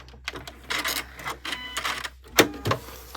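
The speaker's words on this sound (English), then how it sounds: "You're going to stitch down that line until a few stitches after." A sewing machine stitches down a line for foundation paper piecing, in several short bursts of rapid mechanical whirring separated by brief pauses, close and fairly clear.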